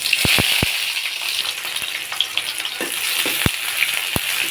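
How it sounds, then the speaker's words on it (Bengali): Whole garlic cloves and sliced onion sizzle in mustard oil in a wok, a steady bright hiss broken by a few sharp clicks of stirring, heard close and alone. "একটু ভাজা ভাজা করে নেব"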